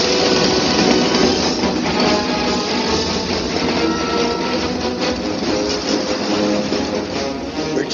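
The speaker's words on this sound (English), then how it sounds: "Where'd you say that train's headed?" Steady, loud train rumble carries through with a dense rattling clatter of rail cars, continuous and close, no voices over it.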